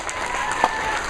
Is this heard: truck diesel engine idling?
no